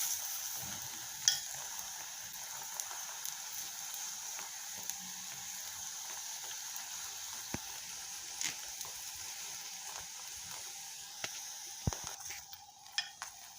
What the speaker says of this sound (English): let it cook on the other side.